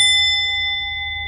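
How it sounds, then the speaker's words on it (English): A tall clock's brass and steel movement strikes its bell once, a clear ringing ding that sustains and slowly fades, heard alone. "That's what it sounds like when the clock is running and it strikes."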